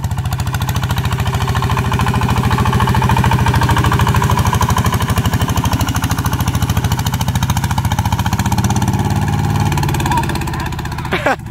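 Motorcycle engine on a test ride running with a steady, loud, rough low throb that pulses rapidly and holds an even level for about ten seconds, ending with a brief clatter; no speech over it.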